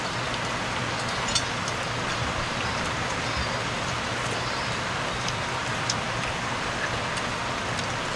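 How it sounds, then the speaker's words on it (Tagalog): Heavy rain pours steadily throughout, a dense, even hiss with scattered drop impacts, no voices. "Sobrang lakas ng ulan."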